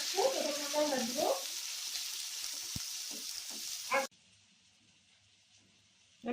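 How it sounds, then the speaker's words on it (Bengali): Chopped onion and tomato fry in a pan for prawn malai curry, a steady sizzle with a short stretch of talk and a few stirring clatters, then a sudden drop to near quiet before the frying returns at the end. "পেঁয়াজটা যতক্ষণ পর্যন্ত বাদামি বাদামি কালার আসছে ততক্ষণ আমরা ভাজবো"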